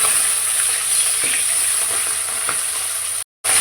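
Fish fry in hot oil in a pan with a loud, continuous close sizzle and faint spatters, briefly cutting out near the end.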